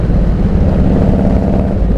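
A Harley-Davidson Road King Classic motorcycle cruises along, its low engine rumble blended with heavy wind buffeting in a loud, steady, close-up roar.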